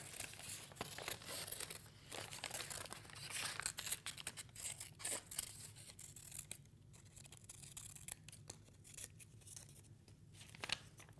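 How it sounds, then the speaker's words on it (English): Scissors snip through paper while cutting out a circle, a close, quiet run of crisp cuts and light crinkling over a low steady background hum. "when I cut out the circle, I'm just going to cut it out a little bit bigger than that"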